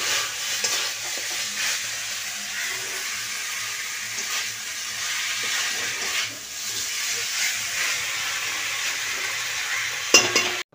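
Meat stir-fried dry in a pan in a home kitchen, a steady sizzling hiss with frequent scraping and stirring strokes, continuous and fairly close, with a brief clatter of utensils near the end.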